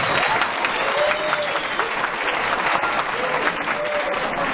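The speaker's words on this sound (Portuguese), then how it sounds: "Peço também o seu aplauso, o seu carinho aos nossos artistas" Sustained applause at a graduation ceremony, honouring the choir singers and musicians, a thick, even roar of many hands clapping throughout with faint crowd murmur and a few cheers beneath.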